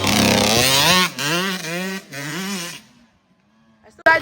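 A child riding a dirt bike alone while its engine revs in rising and falling waves, loud and close at first, then dropping away to near silence before a brief sharp noise at the end.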